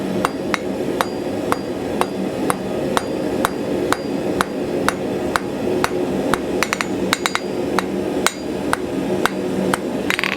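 Hammer forging a titanium ring: sharp metallic blows ring out close and loud at a steady, quick rhythm, with a few rapid clusters of strikes, and no talking.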